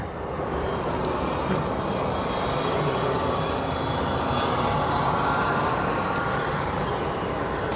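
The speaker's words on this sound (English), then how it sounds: "As cargo lux spools up on runway 10 left" A Cargolux cargo jet at Chicago O'Hare spools up its engines for takeoff on runway 10 left, a loud, continuous broadband roar that holds steady throughout with no talking.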